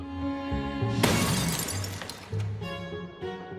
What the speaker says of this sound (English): a pint glass slides off the shelf and shatters.